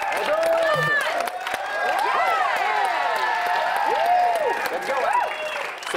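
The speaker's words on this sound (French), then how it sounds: "on l'applaudit tout le monde" Studio audience on the French-language game show Atomes Crochus applauding steadily for about six seconds, with cheering and raised voices layered over the clapping throughout.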